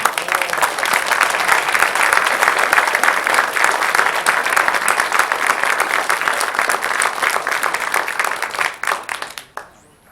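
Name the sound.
audience applause for JROTC instructors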